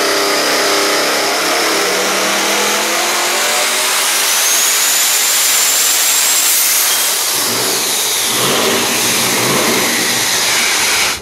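A Devel Sixteen supercar engine roars loud and close for about eleven seconds, a steady, powerful revving blare with no talking.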